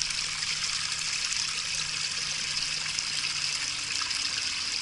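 A small brook in a garden babbles steadily, a continuous bright trickle and gush of running water close by, with no voices.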